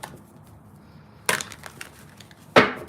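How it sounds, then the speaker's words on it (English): A deck of tarot cards is shuffled close by, giving two brief, crisp riffling bursts over a quiet background. "Give these a good shuffle."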